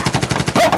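Rapid burst of gunfire as a sound effect in an Ilocano drama, about eight quick, evenly spaced shots within a second, loud and close, with no voices over them.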